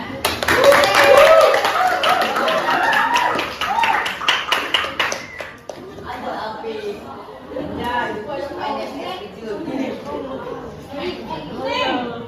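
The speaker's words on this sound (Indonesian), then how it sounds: "Tepuk tangan" A classroom of students claps for a classmate called to the front, a burst of quick overlapping claps for the first few seconds, then fading into children's chatter and talking.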